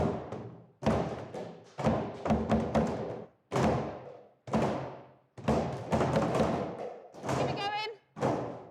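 Buckets are banged as drums by a school band, producing loud, hollow thuds in rhythmic clusters with short pauses between phrases, while a voice briefly calls out encouragement.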